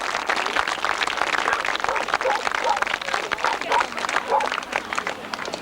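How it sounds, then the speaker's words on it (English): A crowd at a 1991 grasstrack racing trophy presentation claps and cheers for the riders, steady applause filling the air while someone speaks over a loudspeaker. "Give them a cheer, folks."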